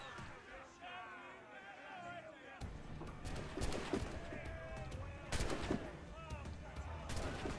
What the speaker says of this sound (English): Wait till we get a little bit closer, and then I'll start using the puckle gun.